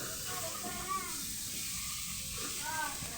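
Vegetables stir-fry in a pan for pancit, giving a soft, even sizzling hiss that runs steadily throughout at low volume, with a few faint whistling scrapes.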